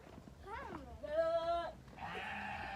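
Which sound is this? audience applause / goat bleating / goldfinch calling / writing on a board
goat bleating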